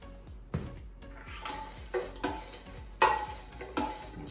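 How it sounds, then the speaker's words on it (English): Air-fried chicken wings with lemon pepper seasoning stirred in a Ninja Foodi basket, producing a series of soft scraping clinks and taps at an uneven rhythm, close and fairly quiet. "I'm gonna stir them up in there"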